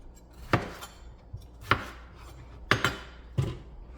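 A knife chops through red peppers and tomatoes on a cutting board in a home kitchen, four or five sharp, separate thunks spaced a second or so apart, close and fairly loud, with no talking.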